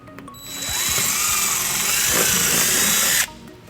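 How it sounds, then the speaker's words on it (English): A power drill spins up and whines loudly for about three seconds while boring a mounting hole in a 2016 Chevrolet Impala during wiring harness installation, then cuts off abruptly. "And then we'll drill our second hole."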